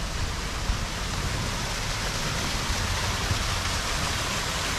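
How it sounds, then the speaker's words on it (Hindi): A large waterfall near Gangtok gives a steady, dense, hissing rush of falling water, continuous and fairly close, with no talk. "ये काफ़ी बड़ा वाटरफॉल है।"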